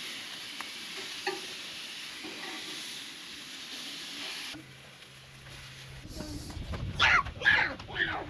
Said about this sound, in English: using a metal spatula for these cast iron things are the way to go